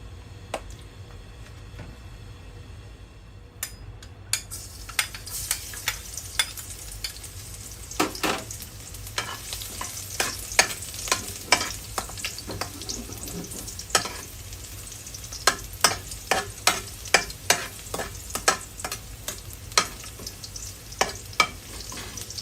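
Pork neck and eggplant stir-fry in hot oil in a home kitchen: a continuous close sizzle broken by frequent sharp scrapes and clacks of a utensil tossing the pieces, with no talking.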